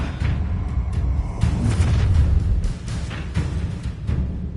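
A fire spell cast in a Hogwarts wizarding video game, heard as a sustained low rumbling whoosh and blast lasting several seconds, loud and close, with crackling texture and no talk.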